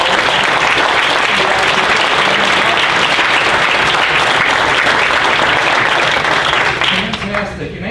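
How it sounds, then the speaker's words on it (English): Audience applause for staff and volunteers at a lecture series event, a dense, loud, sustained clapping from a large crowd that fades slightly at the end. "So if all WAVE staff and volunteers here today can stand up and get a round of applause."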